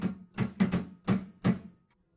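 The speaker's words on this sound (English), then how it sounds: "you're completely muting the strings, so they just make a percussive sound like this" Palm-muted electric guitar strings, hand resting on them near the bridge, give five short, dry percussive chugs in an uneven rhythm, close and fairly quiet, then fade to silence.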